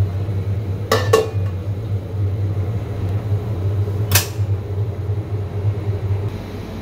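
Pots and dishes clatter during cooking of rice and curry: a pair of sharp metallic clinks, then a single clink a few seconds later, over a steady low kitchen hum, with no voices.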